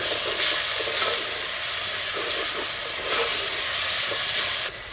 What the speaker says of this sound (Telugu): 1 చెంచా అల్లం వెల్లుల్లి పేస్ట్ వేసుకుని పచ్చివాసన పోయే వరకు వేయించుకుందాం